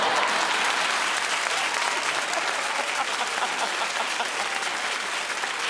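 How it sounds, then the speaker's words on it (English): A studio audience applauds on a daytime talk show, a dense, steady wash of clapping that holds at even volume throughout with no voices on top. "Keep clapping, everybody."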